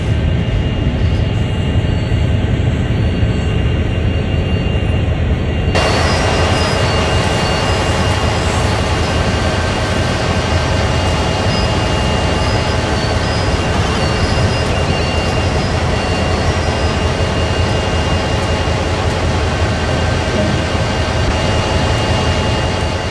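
A CSX heavy-haul freight locomotive braking to a stop in the Train Sim World video game gives a loud, steady, dense rumble throughout, with a shift in tone early on and no speech.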